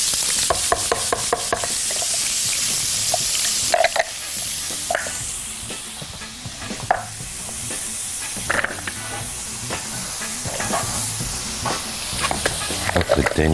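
Onions fry in a hot pan for kebab halla, giving a loud, continuous sizzle with a steady hiss. Stirring clatters and scrapes break in at intervals, all heard close up.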